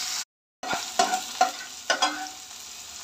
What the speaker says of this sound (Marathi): तर आता ह्याला पण आपण 1 मिनिट तेलात फक्त असं परतून घ्यायचं आहे।